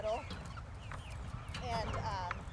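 Pasture-raised chickens cluck and murmur inside a chicken tractor, a mobile field pen, at Silva Star Farms, a busy chorus of nearby clucks with someone talking over them outdoors.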